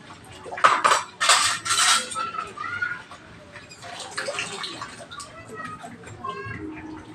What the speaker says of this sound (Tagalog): Hugas pinggan na tayo ngayon.